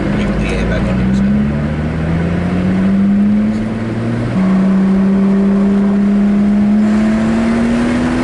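Lotus Exige V6 Roadster engine accelerating hard from inside the car, a loud steady drone rising in pitch through the gears with a shift partway through, continuous and close.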